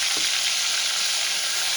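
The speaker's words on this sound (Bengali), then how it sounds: "টমেটো পেস্টটা আমি দিয়ে দেব" Tomato paste frying in hot oil after the tempering, a loud, dense sizzle that fills the whole moment, with a brief stir near the start and no voices.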